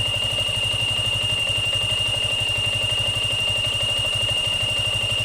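A Yamaha Sniper motorcycle idles close up, its engine chugging in a fast, even pulse while a noisy water pump adds a steady high whine over the top; no talking.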